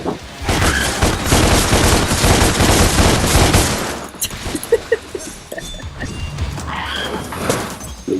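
A hovering enemy firing guns in Devil May Cry, heard as a loud dense barrage of rapid shots for about four seconds, then scattered sharp hits and bursts.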